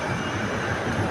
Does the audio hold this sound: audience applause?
no